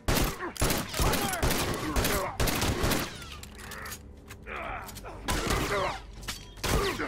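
Rapid bursts of gunfire in The Last of Us multiplayer, loud and close, firing in clusters with brief pauses between volleys while voices shout over the shots.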